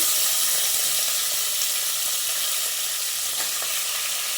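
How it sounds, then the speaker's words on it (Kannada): Eggplant and potato pieces frying in oil in a pan for a village-style peanut masala sambar, a dense continuous sizzle with a faint stir or two, close and steady. "ಇದೆಲ್ಲ ಸ್ವಲ್ಪ ಆಯಿಲಲ್ಲಿ ಫ್ರೈ ಆಗಬೇಕು"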